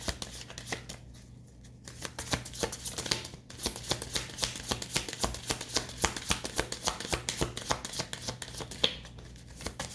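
Playing cards being shuffled close up in a quick, crisp riffling rhythm, with a brief pause partway and the flutter resuming for the rest.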